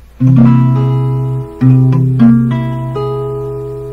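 A piano plays an augmented chord, struck and sustained, then re-struck with shifting notes, ringing clearly on its own.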